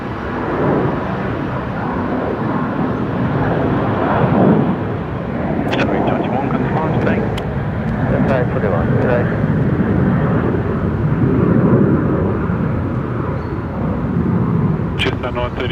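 A Western Global Boeing 747 takes off from Brisbane Airport runway 19 right, its engines a loud, steady broadband roar that swells over about fifteen seconds, with voices talking over it.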